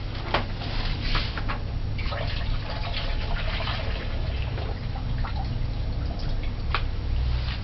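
Soaking water drains steadily off washed cabbage, a continuous close splashing trickle with scattered drips and no voices.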